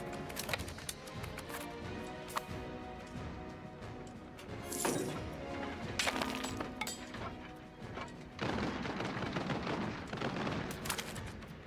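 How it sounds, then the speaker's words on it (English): Battle gunfire in the strategy game Europa Universalis 5: scattered gunshots and crashing volleys crackle through a dense, continuous din of combat, with louder bursts standing out against the background. "there's guns going off now"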